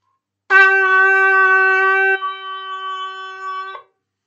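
A single long shofar blast, the tekiah, sounds after a short silence, starting strong and steady, then wavering and dropping slightly in pitch before cutting off.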